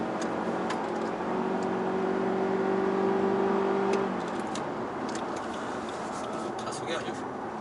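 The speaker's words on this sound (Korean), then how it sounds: "그리고 힘을 쓸 때는 시원하게 가속을 해주네요" A Lexus UX hybrid accelerates, its steady motor and road noise building to a sustained whine with a rising tone, then easing off, heard from inside the cabin with no talk.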